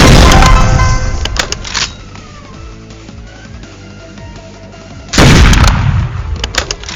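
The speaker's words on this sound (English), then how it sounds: "I'm just sniping" Sniper rifle shots from the Roblox game Hypershot crack loudly at the start and again near the end, each followed by a fading boom, with quieter game sounds between them.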